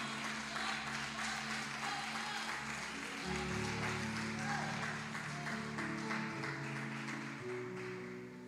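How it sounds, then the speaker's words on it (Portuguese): A standing church congregation claps along in praise, a steady wash of hand claps blended with loud worship music throughout. "Palmas que louvam ao Senhor."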